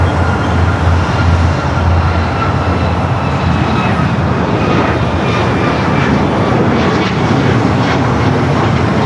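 An aircraft taking off from runway 25 right at LAX, a loud continuous engine roar that holds steady and close the whole time.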